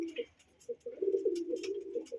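A foreign male pigeon in a loft coos in soft, low, rolling phrases, fairly faint and close, with light rustling and scattered small noises around it.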